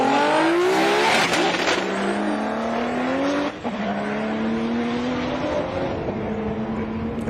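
Race cars at the World Time Attack Challenge, including a Porsche, accelerating hard: loud, close engine roar with rising, overlapping revs through gear changes as several cars pull away.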